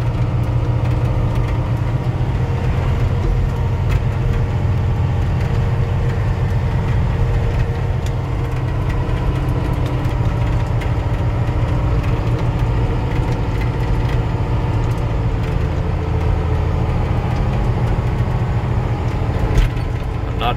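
A truck engine, not a Kenworth, drones steadily while driving, a continuous low rumble heard from inside the cab with a faint, unbroken road noise and no pauses.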